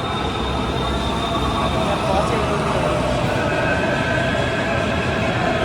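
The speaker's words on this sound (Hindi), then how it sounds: "चलो जी, मेट्रो आ गई" Indoor metro train rolling into a station platform, a steady loud rumble of wheels on rail with a faint squeal, continuous and close, with people talking faintly in the background.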